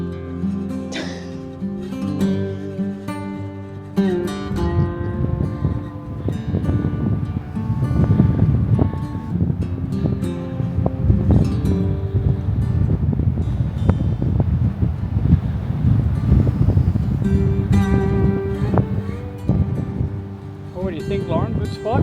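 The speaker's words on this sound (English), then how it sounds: "It's blowing me away. It's windy." Heavy wind buffets the microphone in loud, uneven gusts, with voices speaking intermittently throughout.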